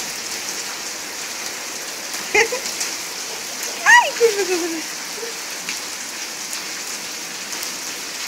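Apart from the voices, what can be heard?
rain falling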